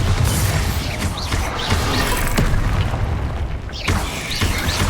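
Bombarda spell explosions in Hogwarts Legacy, repeated booming blasts and crashing impacts layered over loud, busy combat effects for the whole stretch.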